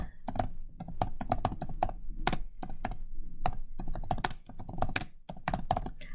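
Fast, uneven typing on a computer keyboard clatters in close, crisp bursts, with short pauses between runs of keystrokes, while a note is written during a peer review; no voices.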